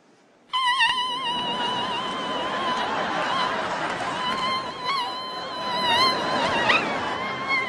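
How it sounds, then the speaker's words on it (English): A Swiss warbler noisemaker gimmick at a magic comedy show gives a high, steady whistling warble with quavering harmonics, sustained for several seconds under faint crowd chatter and laughter. "This little gimmick called a Swiss warbler."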